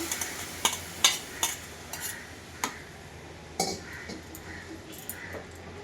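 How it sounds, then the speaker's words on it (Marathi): Grated carrot halwa cooking in a pan after hot milk goes in, a soft bubbling simmer broken by a handful of sharp spoon clinks and scrapes as it is stirred. "आता ह्यामध्ये आपण जे आपण दूध गरम करून घेतलेलं आहे ते टाकायचं आहे"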